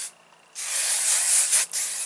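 A short hiss of hairspray from an aerosol can, a brief puff followed by a long steady burst lasting over a second, close to the microphone.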